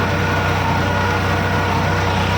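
Eicher 557 tractor engine at 1300 rpm pulling an 11-tyne cultivator, a steady, close diesel drone with an even, unbroken hum.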